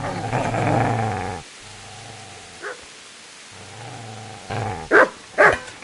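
In Kingdom Come: Deliverance, a dog growls low and steady, pauses, growls again, then breaks into several sharp close barks, with no talking.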